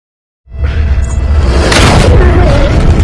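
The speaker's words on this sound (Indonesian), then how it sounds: "Suara tembakan di luar" A heavy booming gunshot blast in an action film erupts after a brief silence, followed by a sustained roaring rumble with crackling debris, loud and close.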